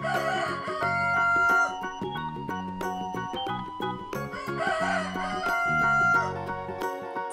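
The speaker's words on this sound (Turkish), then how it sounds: "Şimdi horozun sesini duyalım." A rooster crows loudly several times in succession, each call a long rising and falling cry, heard close and clear with no talking.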